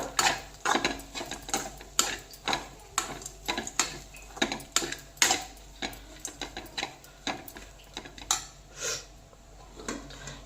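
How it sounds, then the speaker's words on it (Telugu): A spoon scrapes and knocks against a pan while rice is stirred into a coconut mixture for coconut rice, in a steady rhythm of close clinks and scrapes with no talking. "ఇప్పుడు ఇందులో మనం రైస్ కలిపేసుకుందాము ఇలాగ బాగా మిక్స్ చేసుకోవాలండి"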